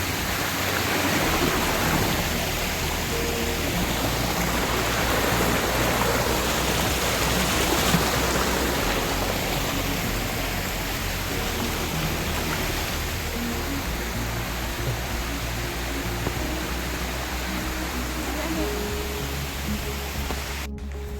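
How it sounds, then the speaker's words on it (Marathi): Rushing monsoon water swirls into a whirlpool near Gumtara Fort, giving a steady, full roar of flowing water that holds unchanged throughout. "हे बघा कसा भवरा तयार झाला मित्रांनो"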